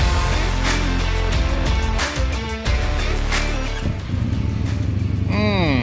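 A CFMoto CLC 450 bobber motorcycle engine fires up and settles into a loud, steady idle close by, ending with a rising electronic sweep.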